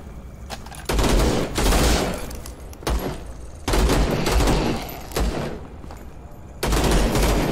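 Video game gunfire rips out in repeated loud bursts, three heavy rapid-fire volleys separated by brief pauses, close and punchy.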